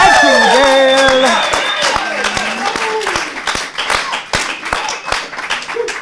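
An audience applauds a band at a small jam session, a steady patter of claps with distinct sharp hand strikes, heard alongside overlapping voices and a sustained tone fading out.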